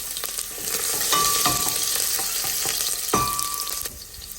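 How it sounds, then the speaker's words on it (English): Carrots fry in vegetable oil in a smoking hot pan, giving a strong, steady sizzle with scraping stirs and a few sharp pan clicks, no voice over it. "Start with vegetable oil in a smoking hot pan and add the carrots."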